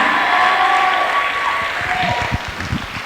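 Church congregation applauding and cheering at a sermon, a dense, steady wash of clapping with a few raised voices, staying loud throughout before thinning slightly toward the end.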